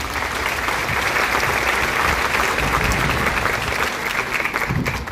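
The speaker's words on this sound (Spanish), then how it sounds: "Un fuerte aplauso para todos estos jóvenes que avisan lo que es Semana Santa." Steady, dense applause from a press-conference audience honouring young Semana Santa organizers, loud and unbroken for several seconds with no talking over it.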